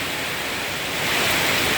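Rain falls on a durian orchard in Ban Kruat, Buriram, making a brief, steady, dense hiss that is fairly loud and close, with no other sounds.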